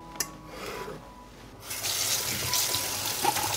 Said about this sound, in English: I cleaned the peppers and now I'm going to wash them.